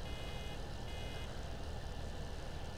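A baler in Farming Simulator 17 sounds steady, even warning beeps under a constant drone of tractor engine noise, with no talking.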